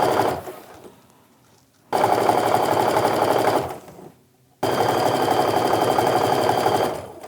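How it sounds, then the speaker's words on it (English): A sewing machine stitches strips of quilt fabric in two sustained, rapid mechanical runs, each separated by a brief pause, close and loud with no talking. "Just go ahead and keep sewing all the way down to the bottom."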